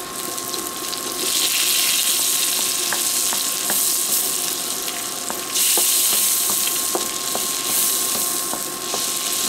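Butter and oil sizzle steadily in a pan for shrimp scampi, a loud continuous hiss with occasional small pops and crackles, no voices.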